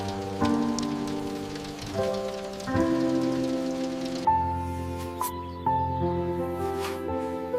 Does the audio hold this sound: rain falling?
yes